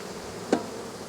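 Agitated honeybees at an exploded nuc keep up a continuous close buzz, broken by one short sharp knock partway through.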